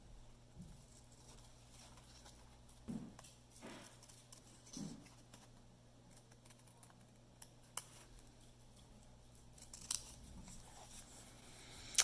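Scissors snip through a paper plasmid model in a quiet room, with a few soft, sparse cuts and small rustles spread across the stretch.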